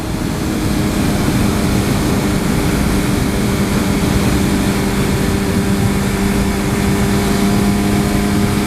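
A swapped superbike cruises along with a steady, loud engine drone and rushing wind noise that hold even for the whole stretch, with no voices.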